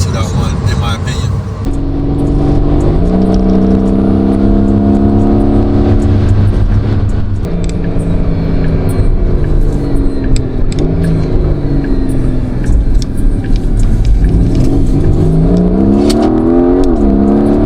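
A Porsche 911 GTS T-Hybrid engine revs through the clip, a loud close-up growl whose pitch climbs and falls in repeated sweeps, with people talking over it.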